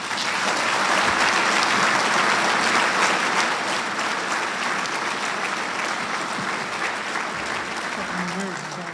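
An audience at a military installations and logistics awards dinner applauds for an award accepted on someone's behalf, with steady, dense clapping that stays loud for the whole stretch and eases slightly toward the end.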